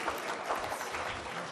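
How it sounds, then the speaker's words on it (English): Applause from a conference audience at an international counselling conference, a soft, continuous wash of clapping that sounds distant and fairly faint, with no voices over it. "So let's give him a big round of applause, ladies and gentlemen."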